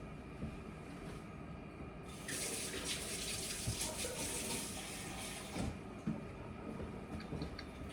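Water running from a tap into a bowl to bring together the last of a flatbread dough in a culinary classroom kitchen, a steady close splashing flow that swells after a couple of seconds, with no talking.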